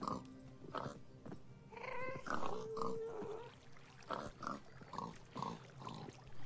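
A pig in a Minecraft Skyblock game gives a series of short, fairly quiet grunting oinks with brief gaps between them, plus a few higher tonal squeals.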